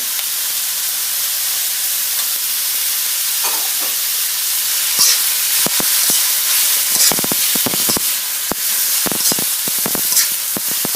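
Chopped tomato goes into a pan of frying tilapia, setting off a steady close sizzle and hiss with scattered sharp pops and spits that grow busier toward the end, as if the mix is being stirred.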